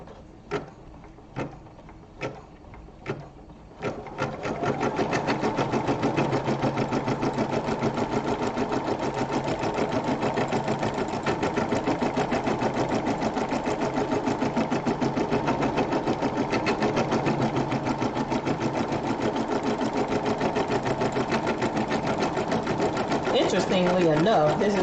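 A sewing machine stitches an embroidered rope bowl; a few separate clicks give way to a loud, fast, continuous mechanical whir of stitching that runs unbroken up close.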